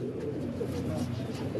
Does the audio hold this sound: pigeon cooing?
yes